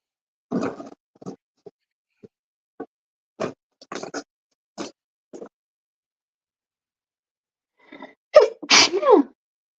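A series of short, scattered snuffly bursts builds to a loud, close sneeze near the end.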